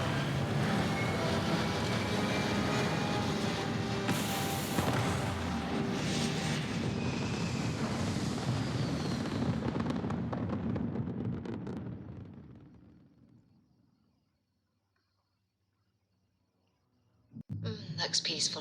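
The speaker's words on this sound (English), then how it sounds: "Okay, take off. All thrusters firing." Spaceship thrusters firing at takeoff in Starfield, a loud, steady roar that fills everything for about twelve seconds, then fades to near silence before a burst of noise returns at the end.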